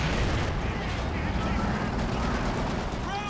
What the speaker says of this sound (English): the mortar team is softening up this MG back here